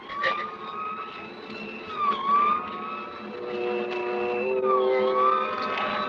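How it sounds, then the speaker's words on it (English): A wailing siren with rising and falling tones holds steady over a low rumble of traffic, fairly loud and continuous throughout. "We both heard the siren then."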